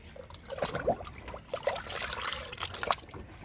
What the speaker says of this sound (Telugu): దానిమ్మ మొక్కలకి ఇచ్చేద్దాము కిచెన్ వేస్ట్ లిక్విడ్.